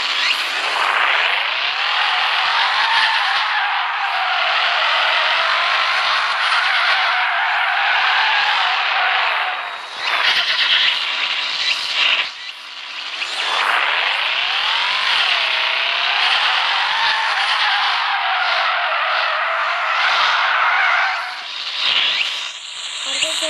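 A roaring video game car engine in FR Legends revs steadily and rises in pitch, easing off briefly twice before climbing again, loud and continuous with a buzzy exhaust tone.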